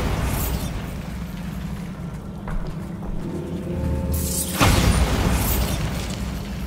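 A Bombarda blasting spell explodes in the video game Hogwarts Legacy: a loud, deep rumbling boom with a sharp crack near the end, over a steady low game-ambience bed.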